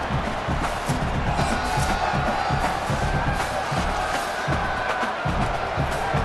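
Stadium crowd at a UCLA versus NSU college football game roars and cheers continuously, a dense, loud wash of many voices with rhythmic swells and shouts.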